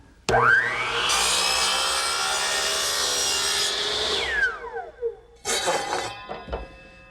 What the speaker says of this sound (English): So I'm back over at the miter box, which I'll set on 4 degrees. Cut one end of the chute.